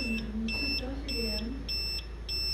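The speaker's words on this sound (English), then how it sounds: "Low voltage is beeping." A battery low-voltage alarm beeps repeatedly at a regular rhythm, short high pips every half second or so, over a constant low hum during a portable refrigerator power test.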